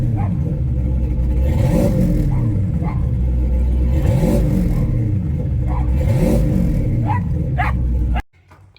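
A loud 5.3 V8 engine revs up and down three times in a steady rhythm over a deep rumbling idle in park, close by, then cuts off abruptly.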